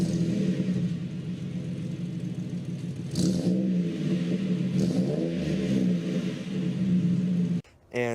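A car exhaust fitted with a Magnaflow universal muffler gives off a deep, rumbling drone that rises and falls with a few revs, then cuts off briefly near the end.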